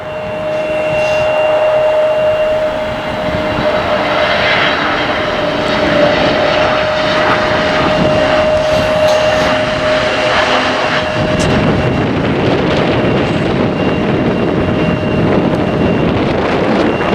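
A fixed-wing passenger airliner passes at night in December, its engine roar a loud, steady broadband rumble with a sustained whine, swelling and holding across the whole stretch alongside some wind buffeting on the microphone.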